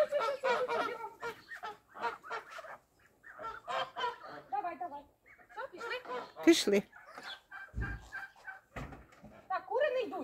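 Chickens cluck and squawk intermittently close by while a person talks over them, with brief rustling and a couple of low thumps.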